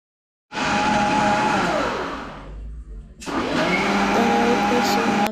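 A kitchen mixer whirs loudly as it blends green apple and beetroot with water into juice, running in two bursts with a short pause between, the motor pitch shifting as the load changes.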